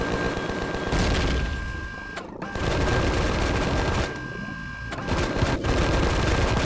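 Gunfire at a drone base in the game Empyrion comes as dense, continuous rapid shots, loud and close, with a couple of short pauses between bursts.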